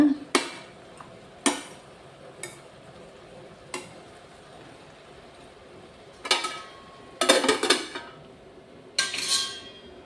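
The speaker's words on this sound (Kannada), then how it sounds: "ಇದು ಮಧ್ಯೆ ಮಧ್ಯೆ ಈಗ ಸೌಟಾಡಿಸ್ತಾ ಇರಬೇಕು" A ladle stirring ridge gourd stir-fry in a pan, heard as several separate sharp metallic scrapes and clanks, some single and some in quick clusters, over a faint background.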